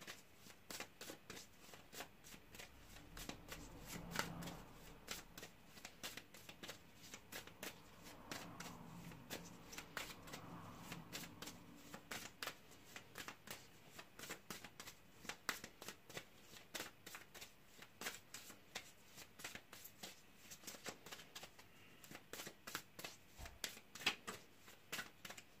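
Tarot cards are shuffled by hand in a continuous fast riffle of soft papery flicks, quiet and close, running steadily for a long stretch with no talking.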